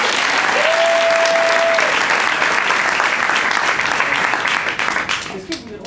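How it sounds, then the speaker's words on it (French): A live audience applauds a card magician at a performance, full steady clapping that holds strong for several seconds and then thins out near the end, with a brief tone briefly sounding over it early on. "On peut l'applaudir pour ça, il a fait."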